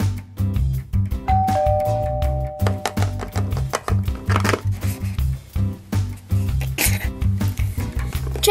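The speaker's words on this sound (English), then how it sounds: "ring the bell" A doorbell rings at a house on Halloween, a clear two-tone chime standing out over loud, continuous background music.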